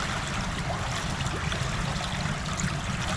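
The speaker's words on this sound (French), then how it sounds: "très bien les bulles, et je souffle." Underwater bubbling from a child blowing out steadily while swimming face-down, a continuous close gurgling wash of bubbles with no pauses and no voices.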